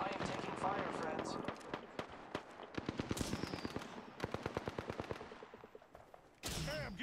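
Rapid bursts of gunfire in the video game Apex Legends crack close by in a dense, driving rhythm, joined by game voice lines, with a sharp burst near the end.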